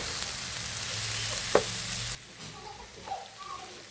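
Chopped egg being stirred in a frying pan, a soft continuous sizzle with a single sharp scrape of the utensil, then the heat noise drops abruptly to a quieter simmer with faint clinks.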